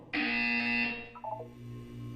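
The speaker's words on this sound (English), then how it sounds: "You will hear a buzzer." Buzzer from the video game Portal 2, a single loud harsh electronic buzz lasting just under a second, followed by a short fading tonal blip over a steady low background hum.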